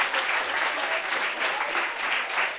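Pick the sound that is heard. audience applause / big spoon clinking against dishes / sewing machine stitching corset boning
audience applause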